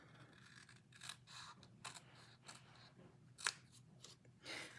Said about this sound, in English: We're going to cut on a score line as opposed to folding.